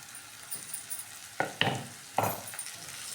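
Sliced capsicum (shimla mirch) with thinly cut onion being stirred in a pan: a soft sizzle underneath, with a few sharp scraping stirs of a spoon against the pan.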